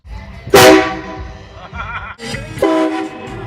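A loud train horn blasts twice, the first burst strongest, each a sustained harmonic tone, with faint rumble between; a train-horn prank from a Honda Accord.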